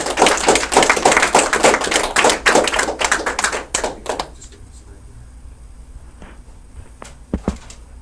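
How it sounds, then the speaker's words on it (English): Audience applause at a Toastmasters speech, a burst of fast, close clapping that fades after about four seconds into a quiet room with a few scattered thumps. "Let's give him a big round of applause."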